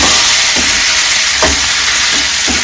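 Okra stirred in hot oil with turmeric added, a steady loud sizzle and hiss of frying with a few soft scraping stirs spaced through it.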